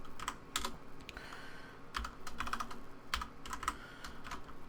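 Fingers type code on a computer keyboard in quick bursts of light clicks separated by short pauses, close but quiet, with no talking.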